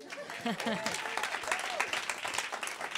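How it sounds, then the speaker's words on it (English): Radio studio applause during an interview, a broadband wash of clapping running steadily throughout, with voices talking over it. "You should applaud that."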